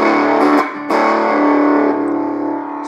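Portable mini guitar amplifier on its overdrive channel, a sustained distorted guitar chord ringing loud and close, with a brief dip and a pick attack before it slowly decays.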